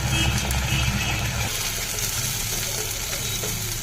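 Ground black and white mustard paste frying and being stirred in a pan, a dense continuous hiss and sizzle heard up close, steady for a few seconds.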